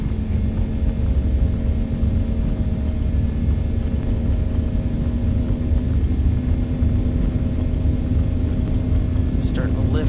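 A steady, loud engine drone from an MD-80 airliner rolling down the runway for takeoff in the X-Plane 11 flight simulator, holding an even roar throughout with a faint high chirp near the end.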